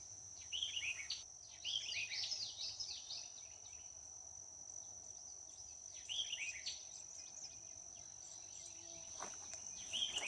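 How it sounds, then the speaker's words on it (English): Chorus of spring peeper frogs calling near dusk, a continuous high whistling drone with repeated bursts of chirping notes layered over it, moderately distant and steady, no talk. "Gets noisy down here just before dark and a little after. Got a real big crop of peepers this year."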